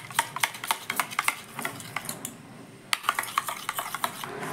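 A spoon stirs chickpea flour batter in a bowl after baking soda has gone in, a quick series of close, sharp scraping clinks with brief pauses and no voice.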